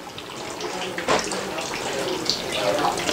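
Water runs steadily through a compact Sun water heater, a close, even rushing and splashing that continues throughout with slight surges.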